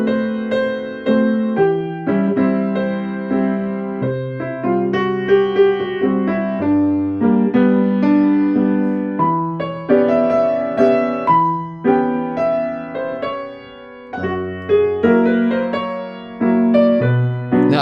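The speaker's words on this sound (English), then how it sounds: "if you were playing through this and you hit a wrong note, here's often what it would sound like" A musical passage played in a stop-start way, with wrong notes and jittery back-tracking where short phrases are replayed to fix a single note. Sustained tones sound over a steady, fairly loud level with brief gaps between restarts and no talking.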